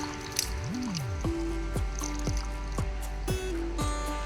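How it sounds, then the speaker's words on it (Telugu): Tamarind juice drips and splashes into a clay pot of fish curry cooking over a wood fire, making a run of distinct bubbly plops and squishy gurgles, some rising in pitch, close and fairly quiet, with no talk. "ఇగో పులుసు వేస్తుంది."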